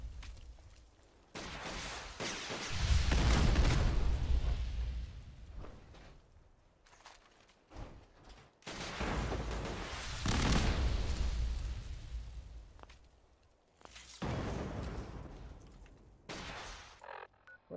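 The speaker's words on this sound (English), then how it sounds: "watch where you're shooting those things" Gunfire during combat in Fallout 4: bursts of rapid shots and booming blasts in several loud clusters separated by quieter gaps, with no speech.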